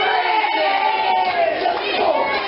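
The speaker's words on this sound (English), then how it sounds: "And the crowd getting behind him" A crowd at a live PTW professional wrestling event in 2018 cheers and shouts steadily in rising support, a dense, continuous roar filling the venue with no break.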